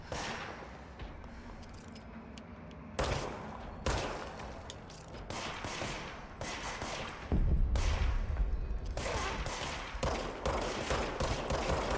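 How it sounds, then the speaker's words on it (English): Gunfire in the Control video game, repeated bursts of rapid shots coming in loud clusters over a low rumbling backdrop, with heavy thumping impacts mixed in toward the middle. "Getting shot up by something."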